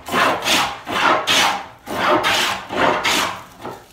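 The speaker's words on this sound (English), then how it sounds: "I'm gonna traverse it perpendicular to the grain right now." Hand plane taking heavy cuts across the grain of a wood slab, with six loud rhythmic rasping strokes, each a close scraping swoosh separated by short gaps.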